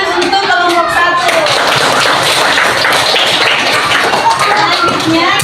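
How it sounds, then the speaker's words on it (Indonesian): A primary school class claps for a group of students, loud, dense clapping close by and continuing throughout, with children's voices calling out at the start. "Berikan tepuk tangan untuk kelompok 1."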